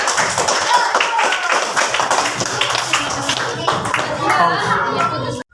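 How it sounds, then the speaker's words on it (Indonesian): Classroom students clap their hands together in a lively burst, close and continuous, with children's voices mixed in over the clapping. "Kalian tepuk tangan buat Dapat Bapak itu."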